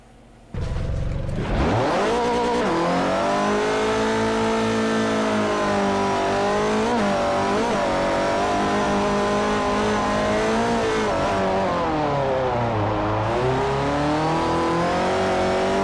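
Race car engine from Forza Motorsport 4 on the Fujimi Kaido mountain road, revving hard and climbing through the gears in a continuous loud whine with pitch sweeps as it shifts and brakes, alone without voices.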